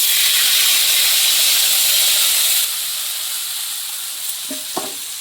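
Dried red chillies and five-spice seeds hit hot oil in a pan with a loud, close burst of hissing sizzle, which eases to a lower steady fry with a couple of small pops.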